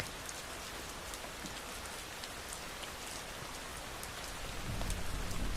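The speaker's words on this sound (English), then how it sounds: "Listen to the sound of the rain gently falling in the background." Gentle rain falls steadily in a soft, even patter of drops on surfaces. The wash of sound is continuous and swells slightly toward the end.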